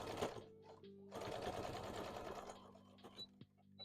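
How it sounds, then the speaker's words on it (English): A sewing machine runs a basting stitch on fabric pieces for a plush toy, a quiet steady mechanical whir with a short pause near the start and a few small clicks toward the end. "I'm just doing a little basting stitch on this so it stays in place"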